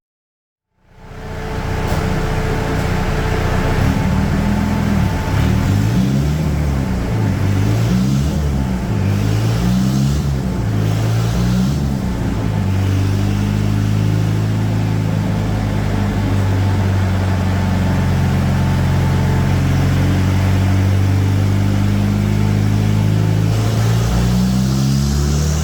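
Citroën C15 engine running on ethanol at full throttle, a loud, steady drone that swells and falls in repeated surges at first, then settles into a sustained, strained roar for about twenty seconds.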